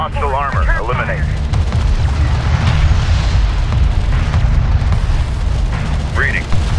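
Weapons fire and explosions in the space strategy game Homeworld Remastered, with missile corvettes engaged: a dense, continuous roar of blasts and booms throughout, with radio-style voices calling out over the battle at the start and end.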